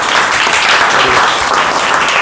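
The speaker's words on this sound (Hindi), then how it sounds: "तालियां बजाओ उसी को।" Students clapping together in a classroom, a loud, dense and steady burst of applause with no gaps, short and close by.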